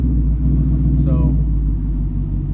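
Vehicles pass along a street in Mexico, a steady low rumble of engines and road noise that stays loud and constant throughout, with a brief higher chirp partway through and no talk over it.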